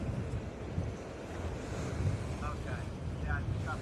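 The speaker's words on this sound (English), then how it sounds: "we got 3 foot waves breaking" Wind buffets the microphone over a rushing roar of 3-foot ocean waves breaking, with a voice talking faintly amid the gusts.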